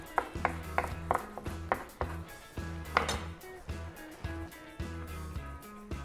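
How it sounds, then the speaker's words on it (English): A knife roughly chops fresh basil and parsley on a wooden board, a quick irregular run of close, crisp knocks with short pauses between strokes. "Just got some basil and some parsley here, which I'll just roughly chop to go on top of that."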